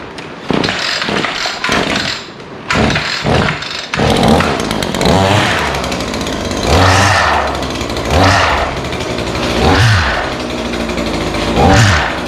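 SCAG commercial mower engine running rough with a torn-up gearbox, loud and close, chugging and grinding with an uneven, pulsing rhythm after a few short starts.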